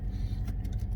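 A Dodge Challenger with a muffler delete, heard from inside the cabin, gives a brief low engine rumble with light metallic rattling on top.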